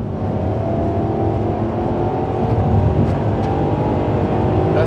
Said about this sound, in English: Doesn't it rev freely?